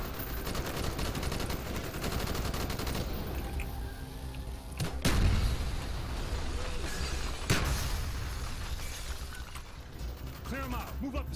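Call of Duty: Black Ops street combat with rapid automatic gunfire and sharp shots, a couple of heavy impacts cutting through, loud and sustained while soldiers shout orders.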